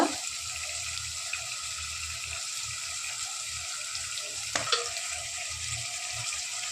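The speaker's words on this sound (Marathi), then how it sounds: "आपली राई तडकली, आता कांदा टाकू" Onion frying in oil in a pan after mustard seeds have spluttered, for a potato bhaji: a steady soft sizzle with low rumbling and a sharp clink midway, close, without talk.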